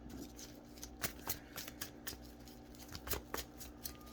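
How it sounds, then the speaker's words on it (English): Playing cards being shuffled and pulled from a deck at close range, with soft riffling and a few sharper flicks and snaps. The sound is quiet and runs steadily with no talking. "Let's see what's in this card deck really quick."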